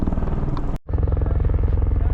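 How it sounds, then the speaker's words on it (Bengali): A helicopter flies over snowy Gulmarg in Kashmir, its rotor making a steady, rhythmic thudding drone that is fairly loud throughout, broken by one brief dropout. "ওই যে দেখতে পাচ্ছেন হেলিকপ্টার চলছে।"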